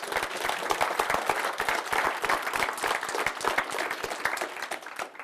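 Dense applause from a sizable crowd at a lecture, steady and sustained throughout with no talking.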